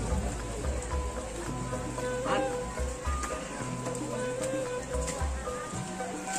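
Steady rain falling during a village wedding reception in Kampung Bosari, Ciwangi, a dense hiss of drops with faint background voices and low hum throughout, fairly quiet.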